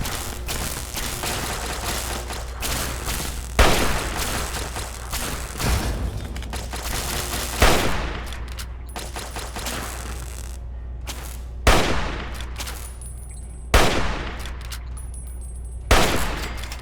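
Automated turrets fire at Enclave forces in Fallout 3, producing a continuous rattling barrage punctuated by several loud booming blasts spaced every couple of seconds.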